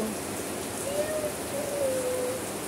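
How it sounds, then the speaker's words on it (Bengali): Steady rain falls outside during a dusty season, a continuous, even patter heard from nearby, with a faint wavering tonal hoot or whistle rising over it briefly. "রহমতের বৃষ্টি আসছে, রহমতের বৃষ্টি বসে যাব"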